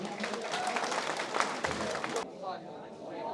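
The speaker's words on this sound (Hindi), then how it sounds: "मैं चाहता हूं कि इन लोगों के लिए एक बार आप अपनी तालियों को तकलीफ दे दें।" An audience at a pigeon flying association prize distribution in Moradabad claps for about two seconds, a dense burst of applause that stops abruptly and leaves quiet room tone.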